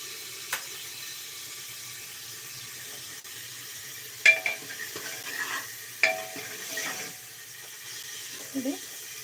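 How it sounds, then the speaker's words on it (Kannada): Onion and fenugreek leaves frying in oil for an avarekai saaru, a faint low sizzle broken by occasional clinks and scrapes of stirring, quiet and close with some talking. "ಈರುಳ್ಳಿನ ಎಣ್ಣೆಯಲ್ಲೇ ಫ್ರೈ ಮಾಡ್ಕೊಬೇಕು"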